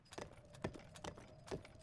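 A horse's hooves clip-clop at a steady trot in the Breath of the Wild video game, a few distinct close hoof strikes spaced evenly, with no talk over them.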